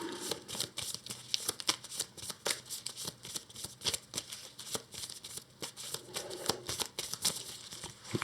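A deck of cards for the Earthborne Rangers card game gets shuffled by hand over and over, with close, crisp riffles and slaps in an uneven but continuous rhythm.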